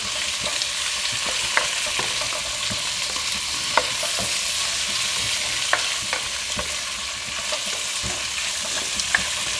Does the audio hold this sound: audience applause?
no